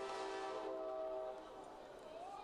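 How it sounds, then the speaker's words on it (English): Train horn sounding from a distance near a high school baseball field during a playoff game, a sustained tonal blast that fades partway through, with faint background ambience. "As I said, a lot of trains going by here."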